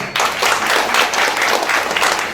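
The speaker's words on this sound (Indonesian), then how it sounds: "Tepuk tangan dulu." Audience applause fills a hall at a Hanura party ceremony installing regional officials in West Papua, steady close clapping from many hands that starts abruptly and runs without a break.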